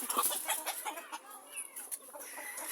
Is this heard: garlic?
no